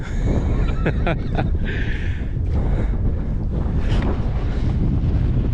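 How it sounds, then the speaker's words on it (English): Strong wind on a hilltop buffets the microphone in a constant roar, with gusty low rumbling throughout. "it's quite windy up here at the moment"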